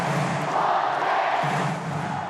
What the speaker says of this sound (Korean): 자신의 이름을 연호하는 팬들의 함성에